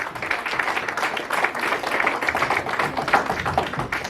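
Spanish-speaking church congregation clapping for Christ, a dense, even patter of many hands at moderate loudness, sustained without break and without speech.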